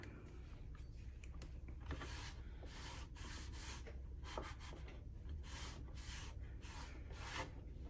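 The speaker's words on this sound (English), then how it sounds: "with the scraper, you can get a little bit more of a different look" A scraper works across a painted furniture surface finished with DIY paint, giving a quiet, continuous rasping rub in uneven strokes with no talking.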